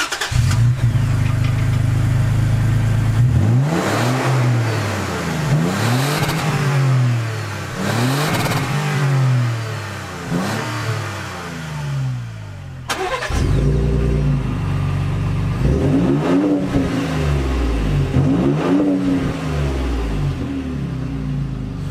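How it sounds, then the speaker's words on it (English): A Ford Raptor and a Toyota Tacoma TRD Pro start up one after the other, each exhaust catching with a loud bark, then revving in repeated rising and falling swells close by before settling, with no talk. "why don't we fire them up and hear the exhaust note, because they both have unique exhaust notes"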